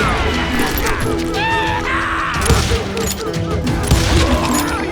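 Gunfire rattles through a gunfight in the Western shooter Call of Juarez: Gunslinger, with dense overlapping shots, crashes and ricochet-like whines mixed under shouting voices and game noise for the whole stretch.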